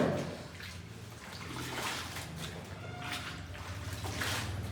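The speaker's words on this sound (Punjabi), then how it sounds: "ਆਪਾਂ ਸਾਰਾ ਨਿਚੋੜ ਕੇ ਇਧਰੋਂ ਰੱਖ ਲੈਨੇ ਆ" Water being wrung by hand out of a soaked suit during home dry-cleaning with detergent, soft splashing and trickling in uneven bursts, faint and close.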